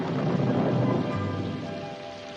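Steady heavy rain hisses for a radio show sound effect, with a low thunder rumble rolling underneath, continuous and fairly close throughout.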